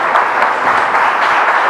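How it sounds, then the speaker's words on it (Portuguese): A church congregation breaks into brief, steady applause during worship, a dense, even wash of many hands clapping with no voice standing out. "Quem pode aplaudir o Senhor?"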